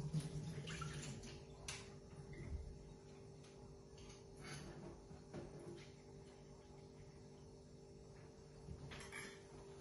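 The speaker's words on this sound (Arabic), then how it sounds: "بصفيهن من المي" Soaked lentils are drained of water, a faint trickle and wash of water running off, with light clinks and drips in a quiet kitchen.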